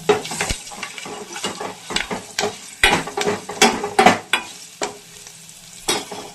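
Green chillies, curry leaves and turmeric fry in hot oil in a pan, stirred with repeated scraping strokes over a steady sizzle, close and fairly loud with no talking.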